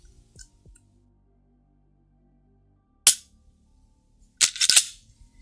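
Trigger pull and reset on an M&P Shield Plus pistol: a faint click early, then one sharp loud snap of the trigger breaking, followed about a second later by a tight cluster of crisp reset clicks, all close and dry in a quiet room.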